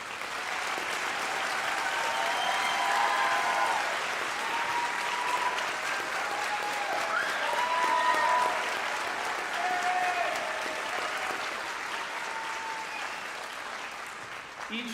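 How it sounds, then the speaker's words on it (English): An audience at a cadet medallion ceremony gives a sustained round of applause, dense steady clapping from many people lasting throughout with a few whoops rising above it. "Let's give all our cadets one more round of applause."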